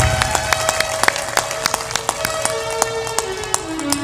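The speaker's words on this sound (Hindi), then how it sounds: "जोर से ताली बजाओ।" A crowd at a devotional satsang gathering claps loudly in a brisk, uneven rhythm with sharp individual slaps standing out, close and continuous over a low murmur.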